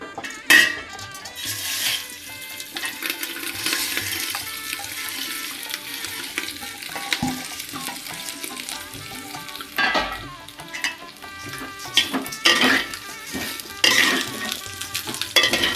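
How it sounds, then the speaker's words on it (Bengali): Soaked rice coated with turmeric and ghee is stirred in a hot pan for pulao, a close sizzle broken by repeated metallic scrapes and clinks of the spoon against the pan, with no talk. "এবার একটু চালটাকে নাড়াচাড়া করে নেবো"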